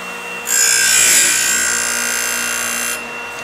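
A chainsaw chain sharpening grinder grinds steadily for about two and a half seconds. It starts abruptly, holds a bright, hissing, even tone near the listener, then cuts off, and no one speaks.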